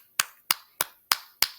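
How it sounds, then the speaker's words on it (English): One person claps five times in an even, brisk rhythm, each clap sharp, close and dry with short gaps between, in a casual setting honoring a favorite character from The Summer I Turned Pretty. "Can we get a round of applause for Agnes?"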